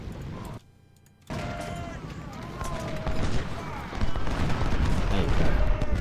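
Infantry volleys crackle across a Civil War battlefield in Ultimate General: Civil War, dense rolling musket fire that briefly drops out, then swells louder and more continuous over the second half, with a voice talking over it.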